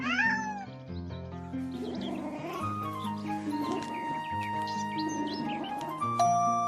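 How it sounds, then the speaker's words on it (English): A young kitten meows repeatedly in short, high, rising calls over a bed of music, fairly close and clear. "A kitten is a very young cat, just as a child is a very young person."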